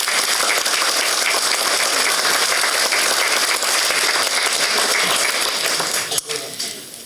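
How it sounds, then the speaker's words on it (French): Townspeople at a village New Year's greetings ceremony in Azerat applauding the flag bearers, sustained dense clapping filling the room before fading with a sharp knock near the end. "on peut les applaudir, ce qui est fait"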